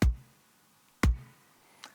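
Two dry kick drum hits about a second apart, each a short, punchy low thump with a quick attack and fast decay, with no reverb, EQ, dynamics processing or compression; a faint soft tick follows near the end.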